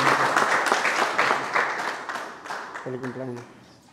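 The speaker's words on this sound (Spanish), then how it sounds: "¡Fuerte el aplauso!" The congregation at a Catholic Mass breaks into warm applause that slowly fades, with a voice speaking over the clapping and a short sung or spoken phrase near the end.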